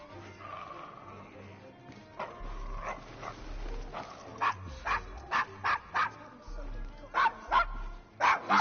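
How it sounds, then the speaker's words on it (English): A dog barks in the Devil's Acre in Assassin's Creed Syndicate, a run of sharp barks that grows into a rapid volley toward the end, with street ambience and some talk between the barks. "Is your dog quite all right?"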